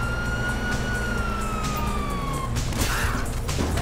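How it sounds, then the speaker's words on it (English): Police sirens wail in Grand Theft Auto V on PlayStation 5, a steady rising-and-falling tone over loud engine rumble and chaotic game noise, with a brief crash-like burst near the end. "You hear that? Sirens!"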